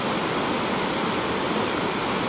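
Water rushes along the main canal of the Chaurjari irrigation project in Rukum West, Nepal, a constant close roar of flowing water with no pauses.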